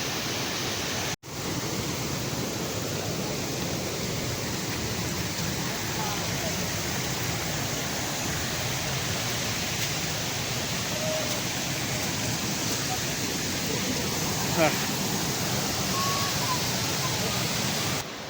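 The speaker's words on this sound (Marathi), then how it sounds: "हा बघा सोनटी वॉटरफॉल" Sonti waterfall near Bhandardara dam, a constant broadband roar of falling water, steady and fairly loud throughout, with a brief thump near the start.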